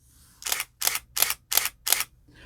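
Shutter of a Canon EOS 10D digital SLR firing a burst at fast shutter speed, five crisp, evenly spaced mechanical clacks in quick succession, close and loud with no talk.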